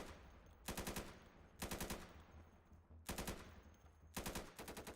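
Automatic gunfire in the video game Insurgency with a SWAT 4 mod: four loud, rapid bursts of rattling shots, each lasting about half a second, spaced evenly over steady background noise.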